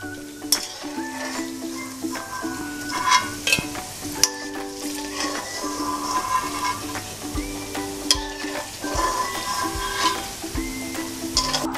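Paneer pieces frying lightly in hot oil give a steady crackling sizzle, broken by spatula clinks as they are lifted out, with a faint background hum and no talking.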